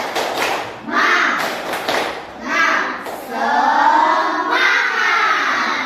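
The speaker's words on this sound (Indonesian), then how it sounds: "Kita tepuk semangat dulu. Tepuk semangat." A group of children claps together in a quick rhythmic pattern, chanting "tepuk semangat" along in bursts, loud and close.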